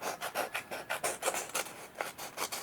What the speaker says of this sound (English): I'm going to go around the edge and trim it down so that it is all equal